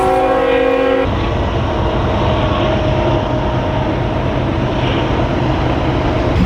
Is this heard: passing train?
yes